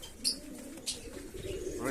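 Pigeons coo softly at morning feeding, a low steady murmur of calls with a couple of brief brighter chirps over it, close by and fairly faint.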